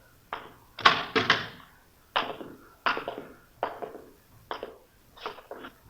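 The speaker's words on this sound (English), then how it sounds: "You want to open the door?" A door being handled and opened in a radio drama: a string of close, dry clunks and knocks, some doubled, spaced irregularly over several seconds against a quiet room.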